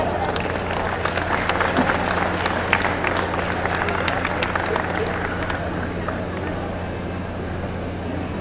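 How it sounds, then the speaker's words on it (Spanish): A crowd claps for the festival queen contestants at a 2013 town presentation in Atlatlahucan, steady dense applause mixed with crowd noise and a low hum running evenly throughout. "Fuerte el aplauso para cada una de ellas."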